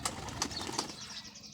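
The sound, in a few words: pigeons flapping wings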